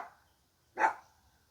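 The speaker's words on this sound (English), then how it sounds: "I apologize if our dog is barking in the background" A dog lets out a single short bark in the background, somewhat distant and muffled, in an otherwise quiet room during a Troy-Bilt XP 21-inch 175cc engine repair.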